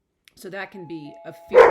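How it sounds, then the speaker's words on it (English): A doorbell chimes indoors, a brief two-tone ding near the end, heard under and after a person speaking, followed by a dog barking. "And that's the doorbell right now,"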